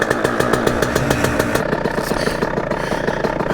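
A Honda HM 86 motorcycle engine runs close by in a fast, steady two-stroke-style putter with rapid regular pulses, briefly rising and easing in pitch.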